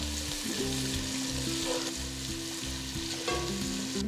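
Steady, close sizzling of thinly sliced onions frying in hot oil with fried spices, with occasional stirring scrapes and no one speaking.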